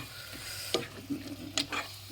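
Soft sizzling in a pan with a few distinct scraping strokes of a spatula as food is sautéed, close by, no speech.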